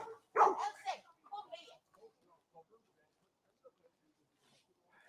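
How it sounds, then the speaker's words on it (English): Several dogs bark and yip close by in a public place, a loud burst at the start followed by scattered fainter yelps and quiet gaps, with a voice talking over the opening barks. "I'm surrounded by dogs and heading off"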